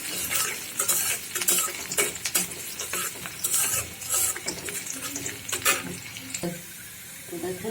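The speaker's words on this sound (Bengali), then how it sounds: "দেখুন পেঁয়াজ, রসুন, শুকনো মরিচ দিয়ে বাগারটা দিয়ে দিব ডালটা।" Onion, garlic and dried chili frying in oil for a dal tempering, with a steady crackling sizzle broken by frequent scraping stirs and clatter, close and fairly loud, with running water faintly in the background.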